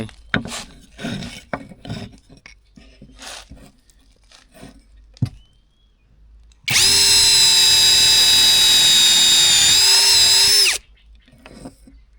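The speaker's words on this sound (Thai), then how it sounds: "อันดับแรกเราใช้หัวธรรมดาเนี่ยแล้วก็ใช้ดอกควานนะครับเจาะเข้าไป" A MASARU cordless drill boring into two pieces of wood clamped together, one loud steady whine lasting about four seconds, preceded by quieter handling clatter.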